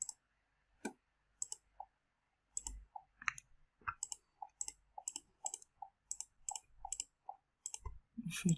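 Sharp computer mouse clicks repeat in quick, uneven bursts while testing a tic-tac-toe app, some clicks coming in close pairs, fairly quiet with short silent gaps between them.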